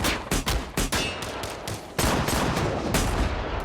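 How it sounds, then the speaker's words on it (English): Rapid bursts of gunfire crack out one after another, loud and close, on a mountainside, then blur into a sustained, chaotic barrage of shots. "Gunfire explodes from both sides, turning the quiet mountainside into chaos."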